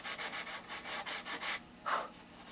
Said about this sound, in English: this wood has few coats of dope on it so it's nice and hard, and it accepts the sanding